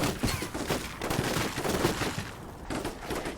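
Dense gunfire crackles in repeated bursts as troops fire on a sniper in a building during a Combat Mission Shock Force 2 battle, with rapid shots layered over a steady rumbling backdrop.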